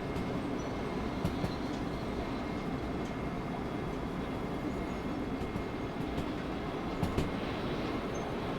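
A locomotive runs along the track in the train game Derail Valley, a steady rumbling roll of wheels and engine with a few faint clanks and squeals, heard alone throughout.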